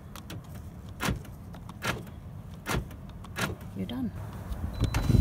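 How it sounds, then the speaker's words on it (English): A car power window motor whirs as the glass rolls up and down after a door guide repair, with a few soft clunks at the stops and a brief spoken remark nearby. "Window rolls smoothly up and down"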